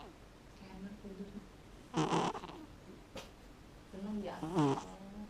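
A sleeping cat snores softly and close by, its low rasping breaths rising and falling in a slow rhythm while people talk quietly over it.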